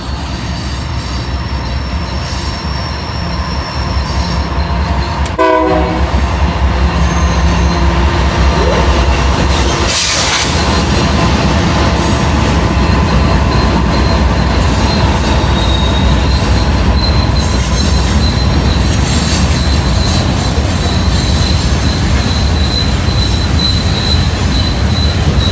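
A long freight train rolls around Horseshoe Curve, its wheels squealing loudly and continuously against the rails over a deep, steady rumble, close by.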